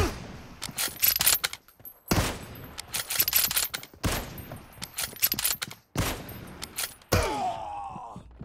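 Gunfire in the video game PUBG during a warehouse team deathmatch: loud clustered bursts of shots separated by short silences, ending in a reverberant, echoing tail.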